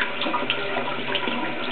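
Tap water runs steadily through a shaving brush as it is rinsed, a close, continuous splashing stream with no pauses.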